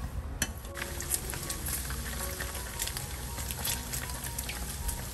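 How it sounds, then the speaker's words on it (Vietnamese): Pork fat cracklings frying in a pan over medium-low heat, a steady dense crackle and sizzle of fat and oil throughout, with sharp pops scattered on top. "khi mình rán tóp mỡ các bạn, nhiệt độ của bếp là mình để nhiệt độ khoảng 3-4 thôi nha các bạn"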